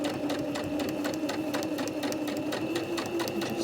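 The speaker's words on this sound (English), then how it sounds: "I'm going to position my fabric in the machine, back stitch to the end to secure my threads" A sewing machine back stitches along a fabric hem, running loud and continuous with a fast, even needle rattle close by.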